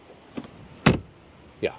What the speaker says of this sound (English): the door closing sounds here. That's nice for the rear door, front door.